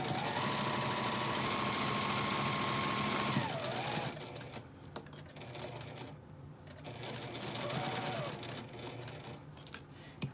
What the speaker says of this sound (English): I'm just going to sew with a 1/4 inch seam.